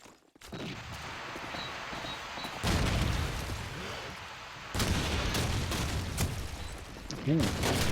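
Rapid gunfire from the World War II shooter game Call of Duty 2 during a competitive match, dense bursts of shots and loud blasts over a continuous noisy battle bed, with a commentator's voice talking over it.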